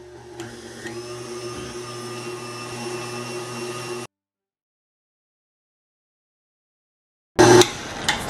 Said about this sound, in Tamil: இப்போ சீனி போட்ட அப்புறம் ஒரு 4 நிமிஷம் மீடியம் ஸ்பீட்லேயே பீட் பண்ணுவோம்